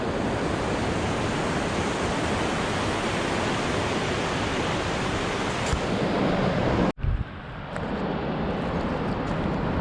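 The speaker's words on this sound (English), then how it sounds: "Look at the waterfall." A waterfall near the Briksdalbreen glacier in Norway pours with a steady, dense roar that fills the whole stretch. About two-thirds of the way through it cuts out abruptly, then returns slightly softer and thinner.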